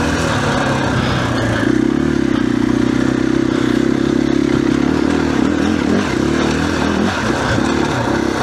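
2021 KTM 500 EXC-F dirt bike running steadily, its engine note rising and holding strong from about two seconds in, with rough clattering and shifting revs, loud and close throughout.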